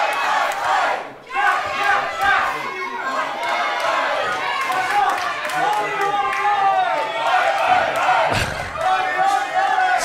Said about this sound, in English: There seems to be a fight here between the crowds.